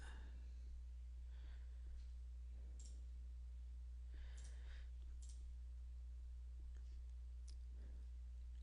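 A computer mouse clicks on a save button in a website editor: a few faint, sharp clicks spaced over quiet room tone, with no one talking.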